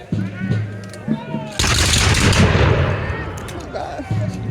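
A loud, sustained crackle of musket gunfire from a volley at a Revolutionary War battle reenactment of Guilford Courthouse, bursting in after a brief stretch of voices and then tailing off with more voices.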